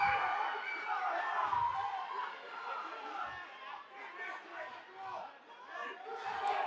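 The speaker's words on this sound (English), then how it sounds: "the crowd roars their delight to that" A crowd at a Sparta mixed martial arts bout roars and cheers, a steady dense wash of many voices filling the space.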